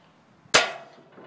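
A single sharp air rifle shot fired into homemade ballistic gel, a crisp close crack followed by a brief decaying ring, alone in an otherwise quiet moment.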